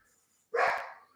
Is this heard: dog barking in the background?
yes